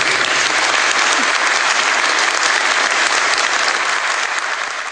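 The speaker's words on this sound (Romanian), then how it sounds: "Vă rog, din tot sufletul, sub această capelă, s-o aplaudați pentru ultima oară." Loud, sustained audience applause beneath a chapel at a memorial gathering, a thick, even roar of many hands clapping without pause, fading slightly at the very end.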